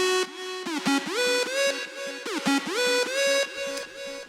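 Celestia lead and a wide super saw synth lead play together as one bright, buzzy melodic line, with rhythmic stepped notes and pitch bends, loud and upfront, no voices.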